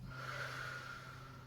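A single deep breath is exhaled during a gentle yoga session, a soft airy whoosh with a slight nasal snort quality, close and quiet, with no talking.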